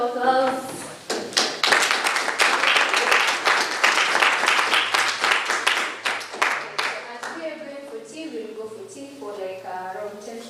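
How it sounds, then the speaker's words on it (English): A room of people gives guests a round of applause at an exchange program session, brisk clapping for several seconds that dies away, followed by voices talking and laughing. "I want us to give our guests a round of applause."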